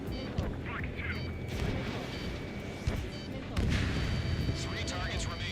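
Missile launches and explosions from Ace Combat 7's aerial combat roar over continuous jet engine noise, with heavy booms and radio chatter in the mix.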